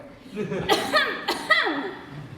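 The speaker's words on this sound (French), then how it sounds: "Vous toussez fort, madame." A woman's couple of short, harsh coughs close up, mixed with a bit of voiced, laugh-like breath, during a stage performance of Molière's Tartuffe.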